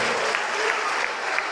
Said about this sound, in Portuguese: Aplauda ao Senhor, aplauda.